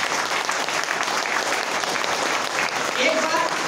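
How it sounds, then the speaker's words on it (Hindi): An audience at a business meeting applauds a visiting guest speaker with loud, sustained clapping from a large crowd close by. A voice speaks over the clapping. "एक बार सर के लिए वो जोरदार ताली हो जाए"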